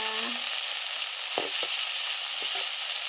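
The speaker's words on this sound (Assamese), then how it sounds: "এইকেইটা মচমচীয়াকৈ যেতিয়া ভাজি ফাটি যাব" Food crackling and sizzling steadily in hot oil as it deep-fries until crisp, with a few sharp pops and spits standing out above the continuous hiss.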